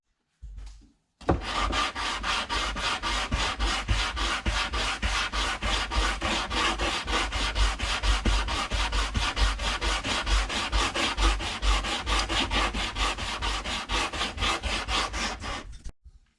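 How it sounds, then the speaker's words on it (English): Hand sanding of a wood and resin inlay: a rapid, even back-and-forth rasping scrub, close and steady for about fifteen seconds, starting abruptly after a short silence and cutting off at the end. "we'll come back and sand this down and see what it looks like"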